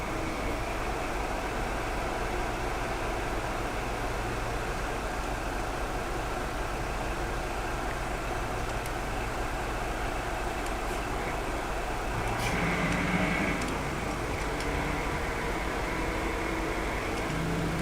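Steady low engine drone of a heavy vehicle driving in Euro Truck Simulator 2 on a Bangladesh map, a Hanif bus with a V8, continuous and even throughout with a slight shift near the end.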